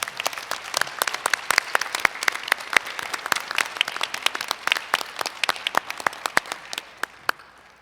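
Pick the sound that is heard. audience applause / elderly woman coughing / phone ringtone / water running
audience applause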